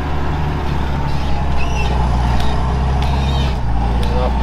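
A four-wheel-drive tractor engine labors up a hill while hauling piping, a steady loud diesel drone throughout with a shift in tone near the end and faint voices in the background.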